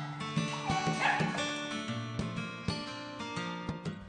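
More than 100 dogs at an animal center bark and yip at once, a dense overlapping chorus with sharp louder barks cutting through, some whimpering mixed in.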